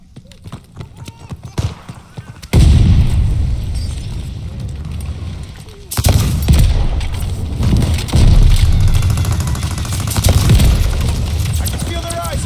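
Call of Duty Vanguard 10v10 Hardpoint match on the Numa Numa map: booming explosions and bursts of gunfire around a contested hardpoint, loud and dense, with in-game voice callouts mixed in.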